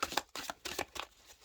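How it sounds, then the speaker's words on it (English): Tarot cards from a Rider Waite or Halloween deck being shuffled by hand, a run of quick, soft riffling bursts close by with short pauses between them, no voice over them. "Keep shuffling."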